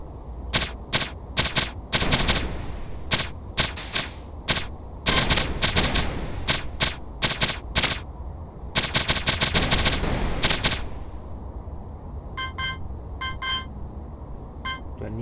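Video game gunfire in rapid bursts of sharp shots with short gaps, loud and close, followed near the end by a few faint electronic beeps, with no talk.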